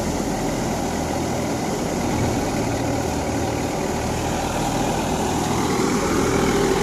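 Tractor-driven wheat threshing machine running outdoors, a continuous mechanical engine drone with steady rattling, loud and unbroken with no voices.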